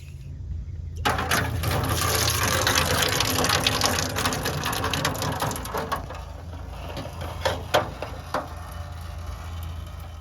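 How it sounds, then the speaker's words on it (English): An aerosol A/C refresher can sprays into a Toyota air conditioning system in a loud, continuous hiss for several seconds while being shaken, then cuts out, followed by a few scattered clicks and rattles. "now you're gonna shake the can as you're spraying it in there"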